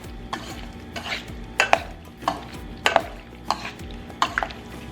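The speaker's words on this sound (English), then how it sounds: "Now give that a good mix." Shrimp is stirred together with white pepper, salt and mirin seasoning in a bowl, giving repeated wet squelching and scraping strokes with sharp clinks in an irregular rhythm, close up and with no talking.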